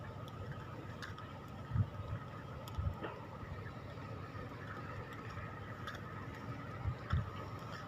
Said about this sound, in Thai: ที่เราได้ยินเสียงนี่เป็นเสียง เครื่องดูดทรายนะครับ